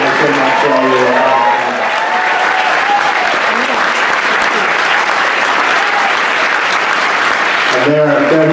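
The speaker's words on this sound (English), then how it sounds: "just give them a hearty round of applause" Hearty audience applause for a film crew at a Sundance world premiere Q&A, loud dense clapping filling the room for several seconds, with voices and some tonal sound at the start and end.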